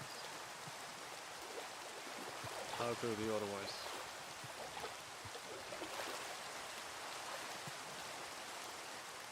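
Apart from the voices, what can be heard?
rain in the video game Minecraft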